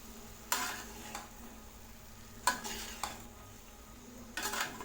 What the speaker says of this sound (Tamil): இப்போ இது ஒரு டைம் நல்லா கிளறி விட்டுருங்க.